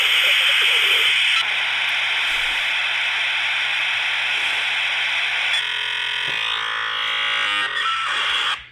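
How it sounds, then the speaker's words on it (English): Dial-up internet modem handshake: a loud, continuous hissing screech with shifting whistles and warbling tones toward the end, heard alone at close range. "And so that is your dial-up noise."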